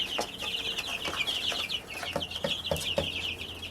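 Several backyard hens cluck steadily and close by, with repeated short calls and chatter from a small flock of chicks kept under a brooder in warm weather.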